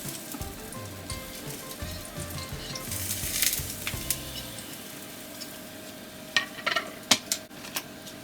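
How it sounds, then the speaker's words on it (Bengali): Vegetables sautéing in olive oil in a pan for a vegetable pizza, a soft steady sizzle with low stirring and scraping knocks, a few sharp clicks and taps of utensils near the end. "তাই জন্য আগে আমি সটে করে নেব।"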